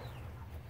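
Chickens in a coop give a brief, low murmuring cluck, close by and soft, alone with no talk over it.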